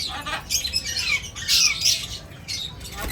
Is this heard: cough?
no